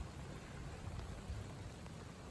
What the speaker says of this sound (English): rain's getting stronger